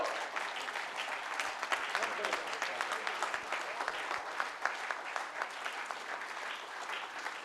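An audience at a memorial lecture series in India breaks into sustained applause, a dense rolling patter of many hands that holds steady and fairly loud throughout, with faint voices mixed beneath.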